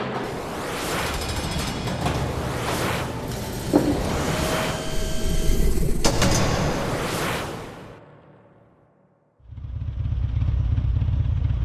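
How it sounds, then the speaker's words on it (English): A V-twin motorcycle cruising along backroads, its engine a steady close rumble mixed with wind noise, easing briefly into near quiet before the drone returns. "The wind in my face, the V-twin humming beneath me"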